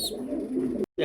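A pigeon gives a single short, close coo before cutting off abruptly.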